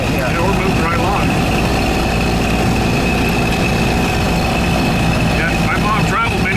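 A 1931 Ford Model A Huckster delivery wagon drives along a road, its steady engine drone running close and loud throughout while people talk over it.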